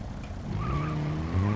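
A Seat car's engine cranks and catches in BeamNG Drive, giving a steady mechanical drone with a tone that climbs in pitch as it revs, close and fairly loud throughout.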